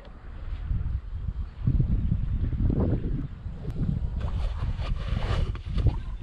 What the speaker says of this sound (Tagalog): Sobra naman yung hangin.